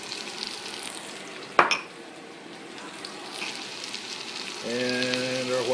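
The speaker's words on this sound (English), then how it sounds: "we're just going to stir and saute this for a little bit" Onion and garlic sauté in olive oil in a pan, a soft continuous sizzle with one sharp utensil knock early on and a faint tonal hum entering near the end.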